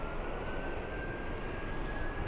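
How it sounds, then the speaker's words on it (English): JetBlue flight 1573, an airliner arriving at LAX from Newark, produces a steady roaring jet rush with a thin high whine running through it, continuous and moderately loud over the short span. "JetBlue 1573 flying in from, get this, Newark."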